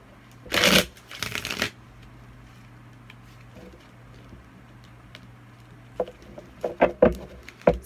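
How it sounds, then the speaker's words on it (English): Tarot cards are shuffled in two quick riffling bursts near the start, followed by quieter scattered taps and a few more short shuffles and card slaps toward the end. "Let me shuffle up really quick"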